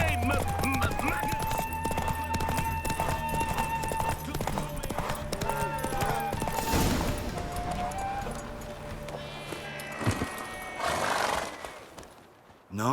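Galloping hooves drum steadily under game music and effects during a horse race in The Witcher 3: Wild Hunt, with a horse whinnying partway through and voices shouting briefly.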